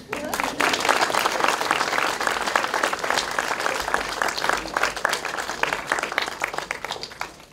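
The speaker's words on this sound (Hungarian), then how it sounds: "Hagyom a tapsot Rékának még." Parents and relatives at a Hungarian school graduation ceremony applaud, many hands clapping densely at close range, swelling early and then tapering off slightly toward the end.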